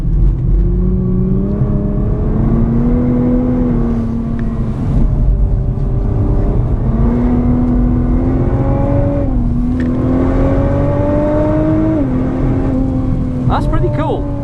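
A 2017 Nissan GT-R laps Spa Francorchamps in torrential rain, heard from inside the car as a loud, constant engine drone whose pitch climbs through each gear and drops at every shift.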